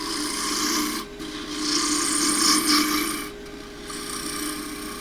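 Spindle gouge cutting a wooden drawer knob spinning on a lathe, a steady close rasping shave with brief pauses where the tool lifts off the wood.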